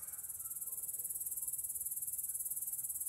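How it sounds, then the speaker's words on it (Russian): Cricket chirping at dusk outside a countryside dacha, a steady rapid high-pitched trill pulsing evenly throughout, fairly faint with a quiet background and no talking. "Поет сверчок."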